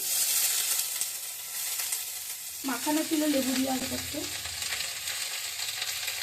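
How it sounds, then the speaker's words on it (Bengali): Six large lemon-marinated chicken pieces fry with vegetables in a pan, a loud, close, steady sizzle that continues while someone speaks briefly partway through. "এবার আমি চিকেনটাকে একসঙ্গে ভেজে নেবো"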